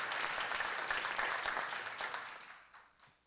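A church seminar congregation claps, a dense burst of many hands at moderate volume that thins out and fades over a few seconds, with a few scattered final claps.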